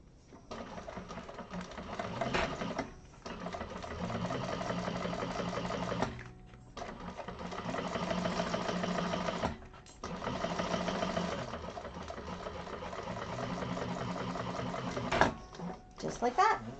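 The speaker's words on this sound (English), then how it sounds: "now we're just going to top stitch right along that top with 1/8 of an inch seam allowance" A Trailblazer sewing machine top stitches along a seam with a 1/8 inch allowance, running in several long steady bursts separated by short pauses, close and fairly loud, with a voice speaking at times over the motor.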